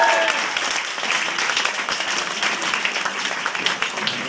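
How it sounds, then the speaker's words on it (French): Sustained applause from an audience at a French stand-up comedy competition, dense steady clapping filling the whole stretch with no voices on top. "Donc applaudissez-le, Mike Hollywood."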